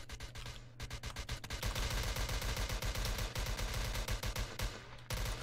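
Rapid automatic gunfire in a Roblox video game, loud dense bursts of shots rattling almost continuously across the whole stretch with a brief lull near the end.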